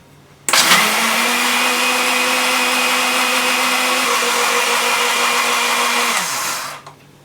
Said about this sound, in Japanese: お砂糖で、蓋をして5分間ミキサーにかけますね